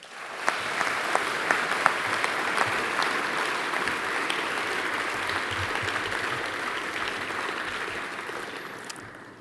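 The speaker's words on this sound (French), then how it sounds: "Je vous demande d'applaudir Marie Cabrette." Sustained applause from an audience at a political party celebration, steady dense clapping throughout with scattered sharper claps, fairly close and loud, no voices over it.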